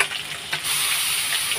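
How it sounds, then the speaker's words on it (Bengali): Five parshe fish fry in a pan with a steady close sizzle and bubbling hiss, a brief stir or scrape near the start, loud and continuous without talk. "পাঁচটা মাছগুলো ভাজছে"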